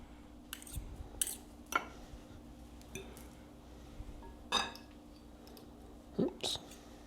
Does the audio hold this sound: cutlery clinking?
yes